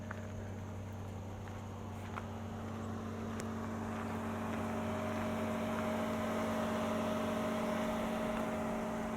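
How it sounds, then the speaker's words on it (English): Cooling fans on a 2022 Hyundai Elantra N with a manual gearbox keep running after a drive, a steady low whirring drone with a constant hum that swells slightly partway through, with no voices. "Those cooling fans will run after every drive, even if you've just gone for a quick cruise downtown."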